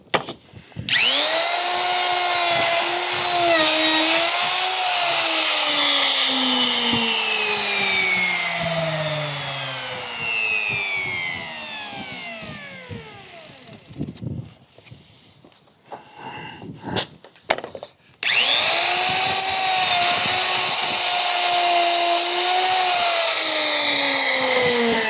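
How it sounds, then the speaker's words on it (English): A router cutting hinge recesses while a solid core door is being fitted whines loudly, then spins down with a falling pitch. It is started again and runs at full, steady speed near the end. "I'm going to leave the router sitting in place till it stops turning"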